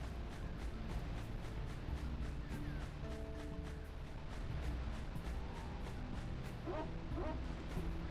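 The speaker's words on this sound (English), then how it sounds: "The dog barking sounds are very funny." A dog barks in a video game, short yips and woofs scattered among game music and background sounds, with some faint voice-like sounds mixed in.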